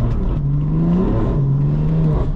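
A 580 bhp twin-turbo BMW M3 revs hard through quick gear shifts on a night drive, a loud, continuous engine drone that climbs, dips briefly at the change, then climbs again, heard from inside the car.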